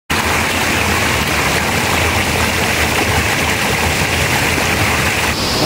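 Mantayupan Falls, a tall waterfall in Cebu: a dense, steady roar of falling water filling the whole clip, loud and constant with no breaks and no talk.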